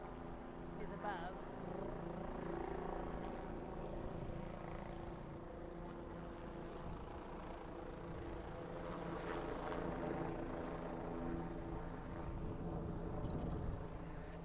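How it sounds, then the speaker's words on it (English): A police helicopter circles above the Giant Center during a memorial motorcade, its low rotor drone and engine hum steady and faint throughout, with a background murmur like distant talk and no clear words. "That's the sound of the police helicopter"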